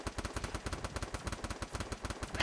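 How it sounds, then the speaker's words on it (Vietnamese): Rapid automatic gunfire from the video game Free Fire rattles in a fast, even burst of closely spaced shots that runs the whole time, loud and unbroken, with no voices. "Đấy em bị bắn này, ui súng cô ngân bắn em đau phết"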